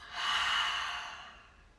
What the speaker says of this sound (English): Inhale through the nose. Exhale out the mouth.